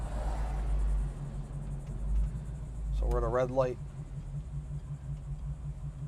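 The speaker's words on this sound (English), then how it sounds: "It's got a real nice smooth idle." A 1967 Chevrolet Camaro engine idles smoothly and steadily at a red light, a low constant rumble running throughout while someone talks over it.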